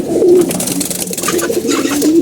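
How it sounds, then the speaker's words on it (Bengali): Domestic pigeons coo loudly and steadily in a close, continuous rolling purr with no pauses. "এই যে কবুতরটা আপনি দেখতে পাচ্ছেন"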